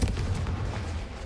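A Confringo fire-blast spell explodes in Hogwarts Legacy, a short, dense, booming burst that fills the whole moment at steady loudness, with no voices over it.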